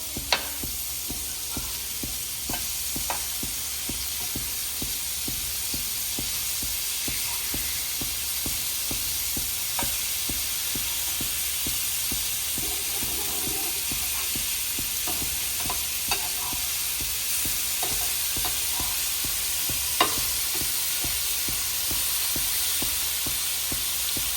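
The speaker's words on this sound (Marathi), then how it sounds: "आपली मच्छी पलटी करून घेऊया दुसऱ्या साईडनं पण चांगली फ्राय करून घेऊया" Eel fish frying in a pan with oil, a continuous close hissing sizzle lasting throughout, dotted with small pops and spatula clicks, no voices.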